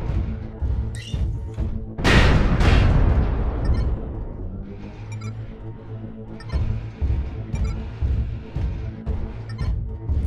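LRM missiles fire in the MechWarrior video game, a heavy booming launch that rolls into a rumbling barrage and then settles into continuous low mechanical thuds and rattles, with no talking over it.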